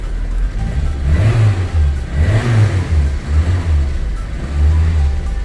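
Classic Mini car engine running loudly up close, revving in several rising and falling bursts over a steady idle, with no voices.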